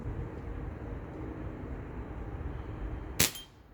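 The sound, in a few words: Daisy 990 CO2 air rifle shot hitting target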